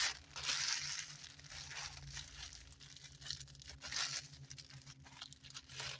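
Plastic bag yarn (plarn) being pulled tight and twisted by hand, giving a steady close-up crinkling and crumpling of plastic with rustling bursts throughout, no voices.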